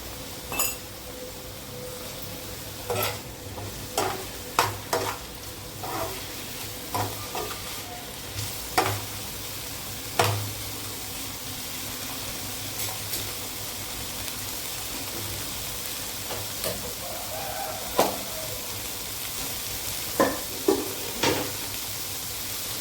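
Greens are stirred in a pan over a steady frying sizzle, with the spatula scraping and clinking sharply against the metal at irregular intervals throughout.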